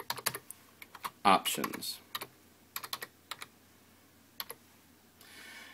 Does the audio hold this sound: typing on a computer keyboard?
yes